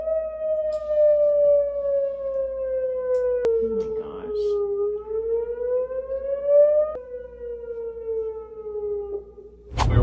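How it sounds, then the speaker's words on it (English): An alarm siren, taken for a fire department siren, wails in long sliding tones with layered harmonics that rise and fall across the clip, steady and prominent with a brief clatter partway through and a sharp noise burst at the end. "It sounds just like the rocket alarm in Afghanistan."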